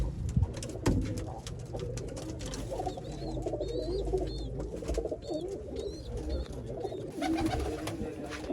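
Soft, repeated cooing of large pigeons among a low, busy background rumble, with a few higher chirps scattered through; no one speaks.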